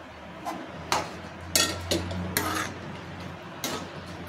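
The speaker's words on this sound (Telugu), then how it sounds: "దీంట్లో లాస్ట్ అండ్ ఫైనల్గా మిల్ మేకర్ వేసేద్దాం" Soya chunks (meal maker) tipped into a curry in a metal pot, heard as a series of sharp clanks and scrapes against the pot, about six distinct knocks spaced irregularly over a faint steady hum, with no talking.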